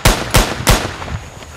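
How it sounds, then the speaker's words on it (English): Sniper fire in a video game: three sharp, loud gunshots in quick, even succession, each followed by a short echoing tail, then quieter rattles fading out. "Sniper fire, get down!"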